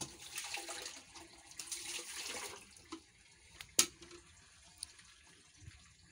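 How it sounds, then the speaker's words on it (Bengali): Water is drawn and poured in a bathroom in soft, splashing pours, fairly faint and close, followed by a few scattered drips and clinks in a quiet room. "জল তুলে নিয়ে আসছে"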